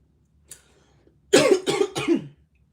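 Three harsh coughs in quick succession, close and fairly loud, preceded by a faint small noise in otherwise quiet surroundings.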